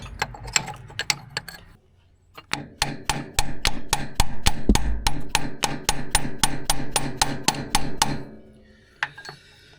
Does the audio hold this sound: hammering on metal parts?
yes